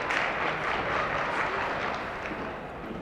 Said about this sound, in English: Getting that slow clap going, getting herself ready to go